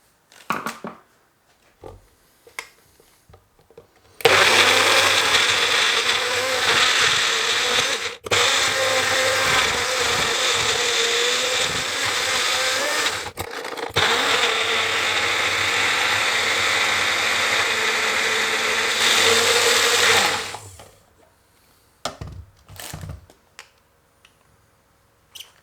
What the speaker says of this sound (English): if you have one of these blenders when you're mixing it, you just want to shake it a bit